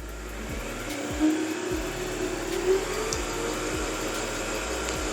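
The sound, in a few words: Moonstar 990P sewing machine winding a bobbin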